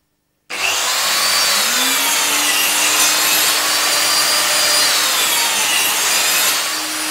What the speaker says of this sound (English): Let's cut a 10mm trench.